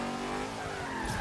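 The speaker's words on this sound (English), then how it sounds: "One last run downhill in this Nova in third gear." Hoonigan Napalm Nova drifting downhill in third gear in Forza Horizon 3, a steady loud engine drone with tyre noise and a brief skid at the end, close and alone.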